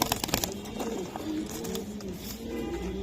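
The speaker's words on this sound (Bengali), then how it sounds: "পাকিস্তানি কবুতর ভাই" A Pakistani high-flying pigeon, shown for sale, gives soft, low cooing calls close by, repeating over a steady background murmur with no voices.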